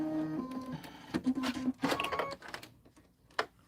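An embroidery machine stitching with cotton thread makes bursts of rapid mechanical whirring and tapping, stopping and starting irregularly, close and moderately loud with brief quiet gaps between runs.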